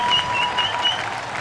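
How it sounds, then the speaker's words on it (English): Ballpark crowd at a Dodgers at Pirates major league game applauding as pitcher Brandon Compton, number 58, is announced, a steady wash of clapping heard from a distance, with a faint tone running beneath it. "This young man should get a nice round of applause right now as he's announced."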